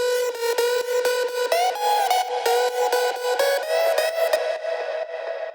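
A second layer of a progressive house synth lead, a sustained bright tone tracing the same melodic line with steady repeated notes and gentle pitch glides, played loud and alone before fading slightly at the end.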